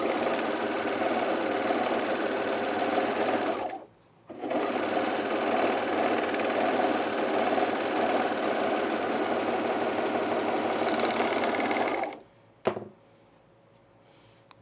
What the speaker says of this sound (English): I can serge this whole thing here